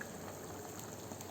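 Water bubbling at a steady boil in a pot on the stove, ready for varagu millet upma, a continuous dense hiss and bubble with no break and no voices.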